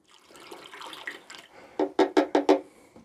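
Water pours into a storage tank at an off-grid abandoned airport to top it off, a close splashing gush followed by four or five rhythmic sloshing surges, with no voices.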